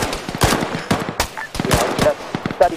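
Machine gun fire in the video game Arma 3, rapid bursts of sharp shots in quick succession, loud and close, with some faint voice sounds mixed in.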